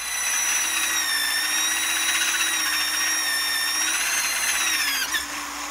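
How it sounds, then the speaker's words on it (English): A power drill drilling a hole in a Ford 8.8 axle whines steadily at high speed for several seconds, loud and close, its pitch dipping briefly near the end as it bites. "So we're gonna drill a new hole,"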